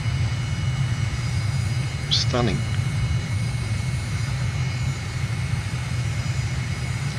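An airliner in Microsoft Flight Simulator taxis to parking at Ljubljana airport in Slovenia, with a steady engine drone continuing throughout and a brief voice speaking over it.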